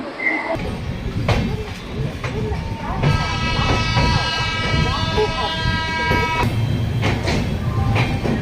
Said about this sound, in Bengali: ঠিক চারটে পাঁচ আমাদের ট্রেন ছেড়ে দিল